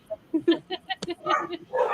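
Small dogs yap and whine in a rapid, fairly quiet flurry, short barks tumbling over one another.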